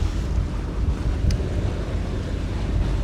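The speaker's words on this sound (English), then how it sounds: "I don't know if you guys can hear the wind, but it's blowing pretty good out here." Strong wind roars and buffets the microphone out on the water, a constant low rumble with lapping waves beneath and no voices.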